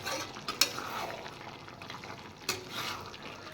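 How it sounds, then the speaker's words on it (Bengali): Chili powder is stirred into a dish in a pan over a soft, steady sizzle, with a couple of sharp utensil clinks against the pan. "এবার আমি দিয়ে দেবো সামান্য লঙ্কার গুঁড়ো আর লঙ্কার গুঁড়োটাও মিশিয়ে দেবো"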